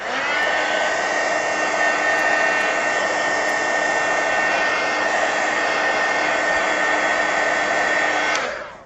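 A loud, steady hair dryer drone runs nearly nine seconds without pause as it dries wet paint on an artist trading card, ending with a quick switch-off.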